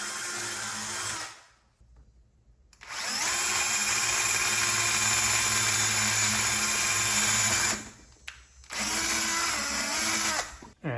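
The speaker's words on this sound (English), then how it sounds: "pilot hole and second hole drilled" Power drill boring pilot holes for a K swap cold air intake on a car, a loud steady whine running several seconds, cutting out, then a shorter second burst after a brief pause.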